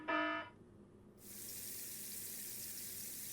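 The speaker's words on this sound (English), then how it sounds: "A large droplets of water are falling from the ceiling." In the Ever17 Remake video game, a short bright tone gives way to a steady, rushing splash of water pouring down from the ceiling, continuous and fairly loud after a brief quiet gap.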